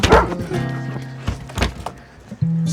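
A dog in a Hindi action film scene gives several sharp, loud barks close by, mixed with a dull thunk and brief background voices.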